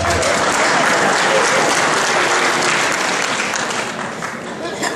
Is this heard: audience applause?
yes